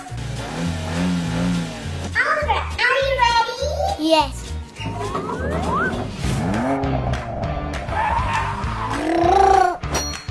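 A child plays with toy cars at home, the revving and skidding sounds mixed in with a child's and an adult's voices, with swooping pitch sweeps and bursts close to the microphone.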